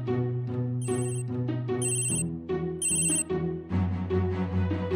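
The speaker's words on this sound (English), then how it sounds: "you can also activate a Tile to ring so you can find it by sound." A small Tile Bluetooth tracker rings to be located, giving a repeating melodic chime pattern with high bright bursts, loud and close with no voices.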